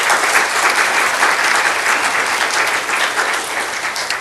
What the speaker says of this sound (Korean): 이분들을 위해서 뜨거운 격려의 박수를 쳐주시면 감사하겠습니다.